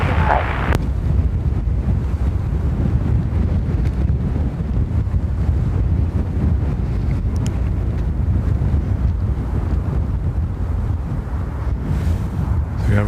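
High wind at Dublin Airport buffets an outdoor microphone, producing a constant loud low rumbling roar with gusty surges throughout and no clear voices.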